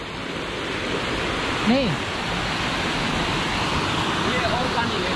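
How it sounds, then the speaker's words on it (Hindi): Waterfall on a mountain trek near Manali, with water falling and flowing in a steady, broad rushing roar that runs continuously through the clip, and a brief voice heard over it. "ये देखिए कैसे पानी गिर रहा है, उधर से घूमते हुए आ रहा है"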